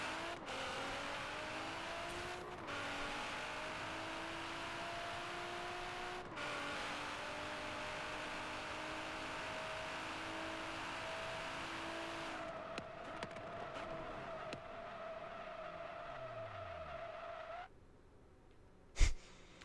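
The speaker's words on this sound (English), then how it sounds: "Have you ever wanted to see a half-naked Nissan GTR pop some wheelies?" Nissan GT-R R35 in Forza Horizon 3, tuned to 3,000 hp, revs hard in repeated rising engine pulls with gear shifts, then settles into a steady drone that cuts off abruptly near the end.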